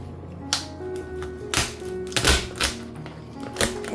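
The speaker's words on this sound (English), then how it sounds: "let's cut our lobster tail in half right here." A knife cuts a lobster tail in half on a cutting board, several sharp taps and crunching thunks spaced irregularly over a few seconds, close and moderately loud, with no talking.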